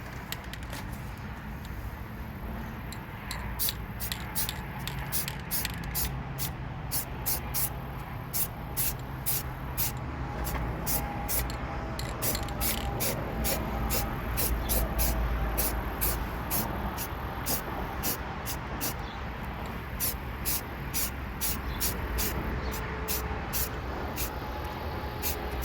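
Filler primer sprays from an aerosol can onto rust repair around the rear taillight of an R53 Mini Cooper, a string of short, sharp hissing bursts repeating over quiet background noise.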